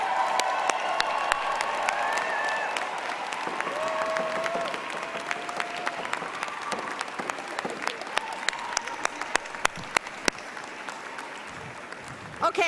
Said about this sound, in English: please join me in applauding the June 2022 graduates